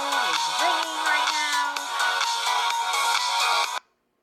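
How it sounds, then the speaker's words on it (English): A mobile phone ringtone plays alone indoors, a steady melodic repeating tone pattern lasting several seconds at moderate level before cutting off abruptly. "like I was saying, my phone is ringing"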